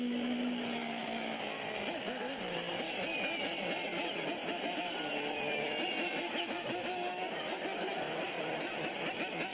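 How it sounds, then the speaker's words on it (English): Gas engine running on a modified electric screwdriver, a steady buzzing drone with a rough revving texture that holds fairly loud throughout, with no talk over it. "Your electric screwdriver has a gas engine?"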